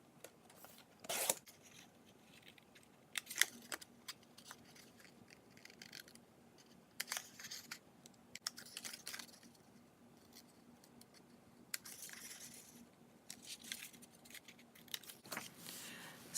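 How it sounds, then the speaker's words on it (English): Scissors trim scrapbook paper for a club kit layout, giving a few distinct snipping cuts spaced through the clip over a quiet room background, fairly close and soft. "So I'm going to trim this down, make it easier for me as I cut the border down."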